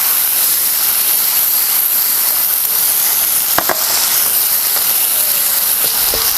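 Finely chopped soft ripe tomatoes sauté in a hot pan for stuffed bitter gourd, giving a steady close-up hiss and sizzle with a few faint clinks.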